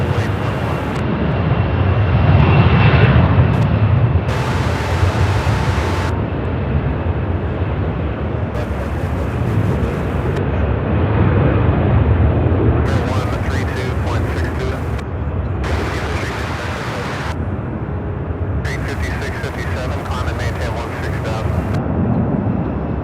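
Jet airliners take off one after another at Charlotte Douglas airport, a loud sustained engine roar that surges and fades in waves, with bursts of a speaking voice cutting in repeatedly over the noise.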